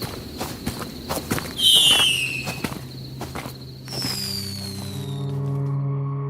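Fireworks burst in an audio drama, with a run of sharp crackling pops followed by whistling, rising rockets and sizzling trails against background ambience, the bangs loud and fairly close.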